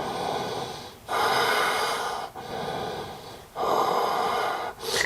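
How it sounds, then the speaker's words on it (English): During yoga core practice, a person takes audible breaths, alternating deep inhales and slow exhales in a steady rhythm, close and clear with no talking. "Big inhale, slow exhale."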